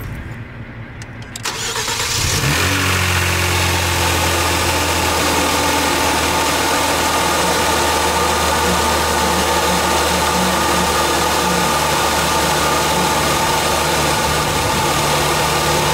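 A Kia Stinger fitted with an HPS cold air intake cranks briefly, catches with a rising rev flare, then settles into a steady, loud idle with a low rumble, close by and without talk.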